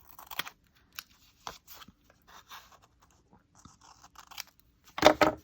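Paper edges being trimmed with a pair of scissors at a desk, sounding as a series of short, close crisp snips and rustles spread irregularly, ending in a louder burst of crunchy cutting and paper handling.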